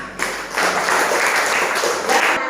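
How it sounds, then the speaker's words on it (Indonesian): Schoolchildren in a classroom break into a steady wash of applause that lasts a couple of seconds before fading, close and fairly loud, with no speech over it. "Tepuk tangan"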